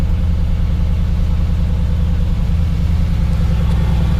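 Sports car engine at a Manheim auction lot, running with a deep, steady low rumble close by and no talking over it.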